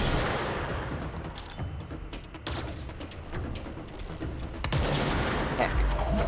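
A sniper rifle fires repeatedly in the Control video game, sharp cracks spaced a couple of seconds apart over a dense, noisy game soundscape of mechanical and combat sounds.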